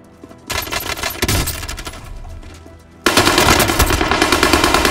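Automatic gunfire in Call of Duty Warzone, loud rapid bursts of shots, one run that fades out and then a second, denser burst that carries on to the end.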